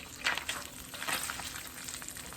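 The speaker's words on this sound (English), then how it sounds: "I can hear that bacon sizzle." Bacon frying in a pan on a home stove, a steady crackling sizzle close by with small pops and spits, heard alone without talk.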